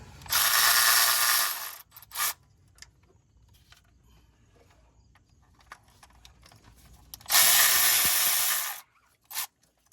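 A ratchet wrench loosens 10mm bolts on a bracket of a Honda engine during a variable valve timing solenoid gasket job: two bursts of rapid close clicking, each about a second long, separated by quiet with faint clanks.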